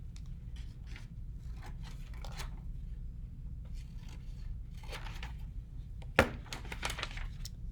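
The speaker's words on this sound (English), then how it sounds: "And then I cut out this little triangular shape." Paper being snipped into a small triangular shape, with soft intermittent cuts and rustles over a low background hum and one sharper crisp snip near the end.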